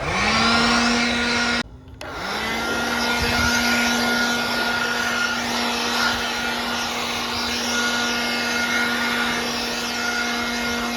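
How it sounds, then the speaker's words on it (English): A small leaf blower roars steadily with a constant motor whine, blowing dust off a sanded foam and putty sculpture, briefly cutting out and restarting, then running on continuously up close. "I've got a little leaf blower thing to blow off all the excess dust before I prime it."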